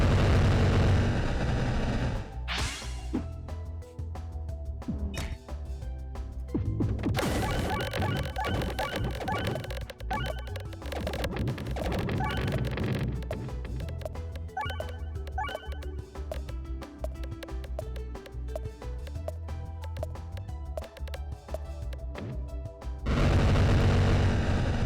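In the video game Peglin, a dense, chaotic stream of many bombs goes off in rapid succession for most of the stretch, layered with game music and with a short gap early on.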